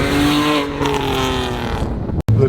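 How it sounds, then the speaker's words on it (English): A modded BMW 328i daily driver with an Advanced Autowerks muffler blares a loud exhaust note, revving with rising and falling tones before a sudden cutout and a short burst after. "the exhaust is pretty loud"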